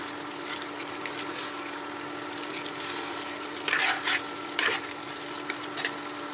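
Chicken liver gravy is stirred in a frying pan over a low sizzle, with a few sharp scraping strokes of the spoon near the end.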